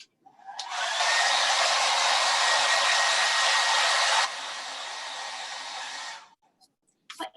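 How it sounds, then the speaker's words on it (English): A hair dryer blows to dry paint on a craft project, a loud, steady, close rushing hiss that drops slightly in strength partway through, then switches off, followed by a few small clicks. "Now hit it with the blow dryer."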